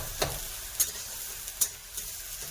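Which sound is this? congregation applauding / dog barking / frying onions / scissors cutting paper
frying onions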